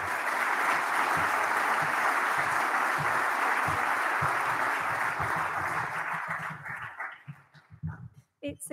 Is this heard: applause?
yes